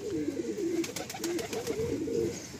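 Andhra and Madrasi pigeons coo in a continuous, rolling chorus of low throaty calls close by, with no talking over them.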